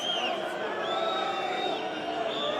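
A partisan wrestling crowd at a freestyle 79 kg semifinal grumbles and jeers in a steady, dense wash of voices, with a few whistles rising above the crowd noise.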